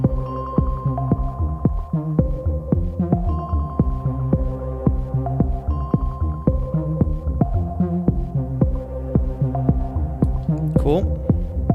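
A thin, high-pass filtered synth tone from an Ableton Move pulses in a steady repeating pattern, plucky notes stepping through a looping melodic sequence.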